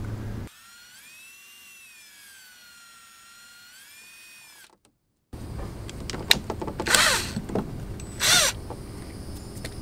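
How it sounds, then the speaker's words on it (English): A power drill bores a small pilot hole while fitting carbon fiber side skirt extensions on a BMW F30: a steady high whine that cuts off, then clattering handling noises and brief bursts of drilling. "So we go ahead and drill a hole, pre-drill a hole."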